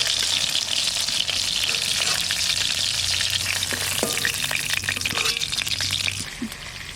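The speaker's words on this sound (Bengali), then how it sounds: "মাছ ভাজতে ভাজতে আমার মশলা বাটা হয়ে যাবে।" Rohu fish pieces fry in hot oil in a village kitchen with a steady, dense sizzle throughout. Faint clinks sound now and then, and the frying eases slightly near the end.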